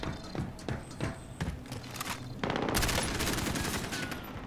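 Gunfire in the video game Call of Duty Warzone, rapid bursts of shots and crackling distant fire under game noise, becoming a dense continuous barrage toward the end.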